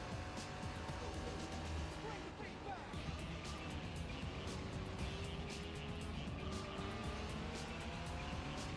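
Racing car engine from Gran Turismo 4 chasing down an RX-8, with a steady loud engine drone, rising and falling revs, and tire squeal over continuous game audio.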